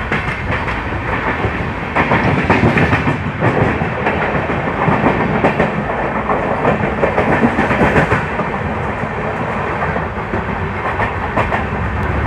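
The Jodhpur–Indore express train runs at 130 km/h between Jodhpur and Ajmer through the Aravalli hills, a loud, steady roar of wheels and carriages with rhythmic clatter throughout, close and continuous, no voices.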